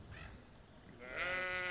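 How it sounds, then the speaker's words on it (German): Sheep grazing on a dike along the Lower Elbe give a faint, distant bleat rising out of quiet outdoor background noise near the end. "1962 überall auf den Deichen der Unterelbe zigtausend Schafe, die sich um die Deichpflege kümmern"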